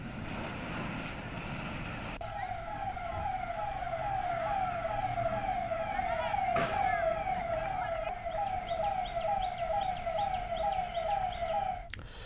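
A fire brigade engine's siren wails steadily and loudly from about two seconds on, its repeating rising-falling tone continuing to the end over road traffic noise at a car fire scene, with no one speaking.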